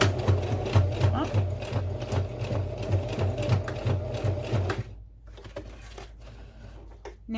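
A domestic sewing machine labors through thick layers of a fabric pouch with a rapid, strained mechanical chugging up close. The motor then stops abruptly, leaving quieter rustling and faint handling noises.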